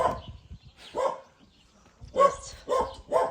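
A dog barks nearby in short separate woofs, one at a time with pauses between them, then three in a quicker run near the end.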